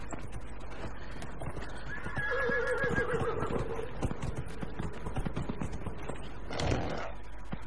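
A horse in the video game Dragon Age Inquisition gives a drawn-out wavering neigh amid a steady patter of hooves and game ambience, with a snort-like burst near the end; no voices.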